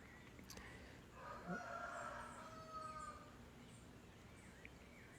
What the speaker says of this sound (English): We do have a lot of roosters here